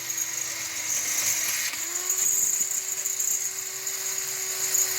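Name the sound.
power drill drilling through metal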